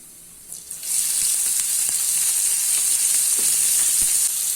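Finely chopped onions drop into hot oil with spices in a pan for mutton curry and sizzle continuously, a bright, steady, close frying hiss with occasional faint stirring clinks.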